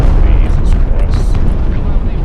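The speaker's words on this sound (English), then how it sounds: "Was that our nuke or their nuke?" A nuclear strike in the war game Broken Arrow booms as a loud, sustained roar. The rumble rolls continuously, with voices talking over it.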